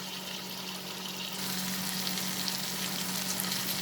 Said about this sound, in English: So reduce the flame to medium high and then just cook the tomatoes.